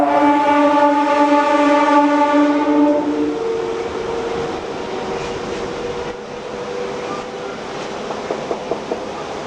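MEMU train arriving at Prasannayanapalli station, opening with a loud sustained horn blast for about three seconds, then steady rolling rail noise with faint clanks as it comes in.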